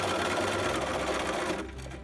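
A sewing machine runs steadily, zigzag stitching over a wire for the nose piece of a fabric mask, its fast mechanical whir close and continuous before easing off near the end.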